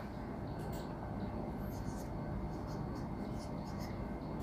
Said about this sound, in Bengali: তাহলে আসেন উপরে লিখব ক্রেডিট ভাউচার প্রস্তুত